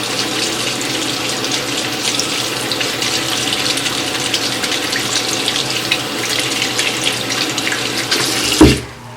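Steady tap water runs into a sink as a makeup brush is rinsed, a continuous close hiss that ends with a brief knock as the flow shuts off.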